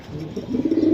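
Racing pigeons kept for breeding coo softly nearby, a low throaty rolling call that swells toward the end, with no talk over it.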